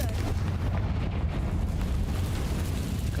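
Confringo blasting spell going off in Hogwarts Legacy, a loud, sustained booming explosion with heavy low rumble filling the whole moment, no voices.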